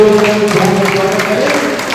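Loud applause rises from an audience at a Buddhist training camp in Varanasi, a steady wash of many clapping hands with music or tones sustained underneath for the full two seconds.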